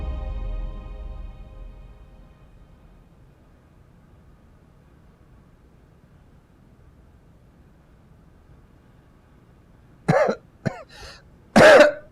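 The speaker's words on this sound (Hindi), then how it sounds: "आज आपकी खांसी कम क्यों नहीं हो रही?" After a long near-silent stretch with a faint low rumble at the start, a person coughs a few times close by, short harsh bursts.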